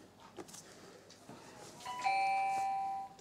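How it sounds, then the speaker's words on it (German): A home doorbell rings with a clear two-tone chime after faint background rustling, moderately loud and close, fading out at the end. "Und es klingelt an der Tür."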